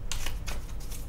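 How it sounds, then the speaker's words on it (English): Tarot cards being shuffled by hand, with rapid papery riffling bursts in a steady rhythm, close and fairly loud, no talking. "shuffle the cards for Pisces"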